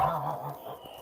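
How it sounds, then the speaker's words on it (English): An unhappy goose, held among chickens, gives a brief harsh honking call up close, fading within a second. "this goose is unhappy"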